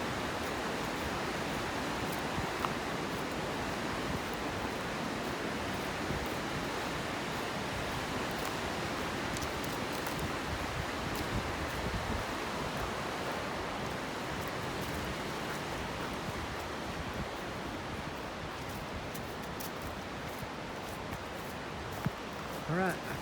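A rain-swollen mountain creek running high beside the Twenty Mile trail in the Great Smoky Mountains, a steady, even rushing of water heard at moderate distance without a break.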